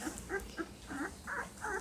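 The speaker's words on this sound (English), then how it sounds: "don't you guys get all started whimpering on me." Young puppies around ten days old whimper softly in short, faint, high-pitched bursts, a few quick whines spaced close together nearby.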